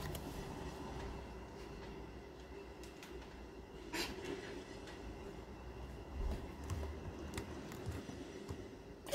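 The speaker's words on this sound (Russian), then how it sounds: "Пассажирский поезд." A passenger train passes a railway crossing at a distance, a low steady rumble of rail noise with faint wheel clatter and a few brief sharp clicks, fairly quiet throughout.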